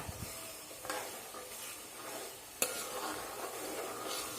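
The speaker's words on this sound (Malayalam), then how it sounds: "എണ്ണ തിളച്ച് വരുന്നുണ്ട്" Carrot-infused oil heating in a pan for a homemade skin oil, giving a steady soft sizzle and hiss with occasional stirring scrapes and one sharp clink partway through.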